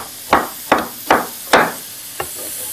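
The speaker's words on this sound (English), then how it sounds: "slice right down the core, and you've got a beautiful piece of pineapple that you can now cut into nice chunks" A knife chops through pineapple on a cutting board, with four sharp, evenly spaced thuds and then a lighter fifth one, close and clear with no talk.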